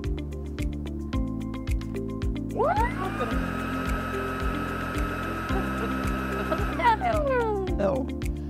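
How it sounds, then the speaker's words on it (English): An ILIFE H80 handheld vacuum cleaner switches on with a rising whine, runs at a steady high-pitched drone for about four seconds, then winds down. A regular ticking continues in the background throughout. "Pressing this will turn the vacuum cleaner start and the built-in LED to light up."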